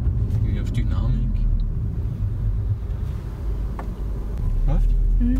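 A Jaguar XE 30T drives in normal mode, its steady engine and road rumble heard from inside the cabin while people talk over it.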